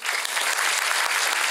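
Dense, enthusiastic audience applause after a music performance at a student talent show, steady and loud for the whole short burst.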